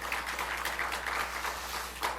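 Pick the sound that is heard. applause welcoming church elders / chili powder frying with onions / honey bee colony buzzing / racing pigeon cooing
applause welcoming church elders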